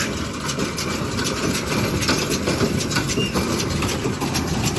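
A New Holland TD110D tractor engine rumbles steadily with a clattering Agri Türk hay baler baling alfalfa, a continuous loud mechanical drone close by with no voices.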